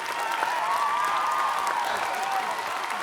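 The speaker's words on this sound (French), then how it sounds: "pas la peine de m'applaudir comme ça" Steady applause from a group of people, dense continuous clapping at moderate distance with a voice audible over it.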